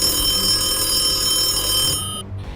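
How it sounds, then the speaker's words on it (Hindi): A telephone bell rings steadily with a bright, sustained metallic tone, fairly loud and close, cutting off near the end. "फोन की घंटी बजती है"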